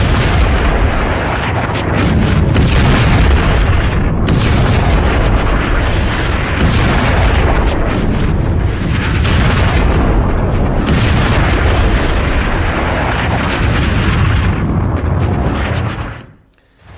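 Phosphorus bomb explosions in war footage form a continuous, loud, booming roar with repeated heavy blasts and crackle, fading out abruptly at the end.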